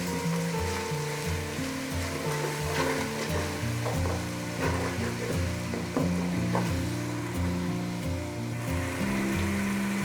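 Masala sizzles steadily in a frying pan for aloo matar pulao, a continuous close crackle with occasional scraping stirs, no voices over it.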